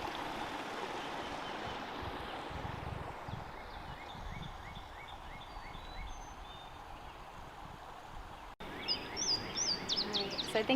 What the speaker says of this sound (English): All you hear is birds